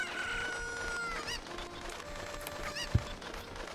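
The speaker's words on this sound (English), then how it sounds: "Alright, chicken." A cucco chicken crowing in Ocarina of Time, a drawn-out game crow over steady background music, with a short sharp sound near the end and no talking.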